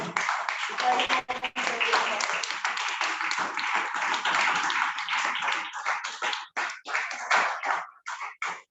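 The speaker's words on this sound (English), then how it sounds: "please help me to welcome with a warm round of applause." A small group at a Toastmasters meeting claps close by, uneven individual hand claps blending into a warm round of applause that thins out into scattered claps and gaps toward the end.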